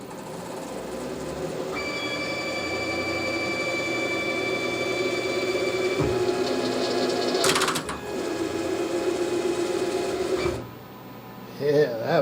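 A homemade CNC machine with a clutched tap holder drives a quarter-20 tap 3/4 inch deep at 500 RPM, a steady mechanical whine and hum building over several seconds, then a clunk and stop near the end.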